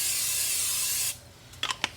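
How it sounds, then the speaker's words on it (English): Cooking spray hissing onto a cast iron skillet heating on the stove at medium-low, one steady close spray burst for about a second, followed by a couple of faint clicks. "we're going to let that heat up and spray it with some grease"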